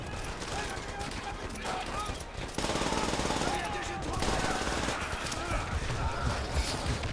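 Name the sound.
gunfire from video game Call of Duty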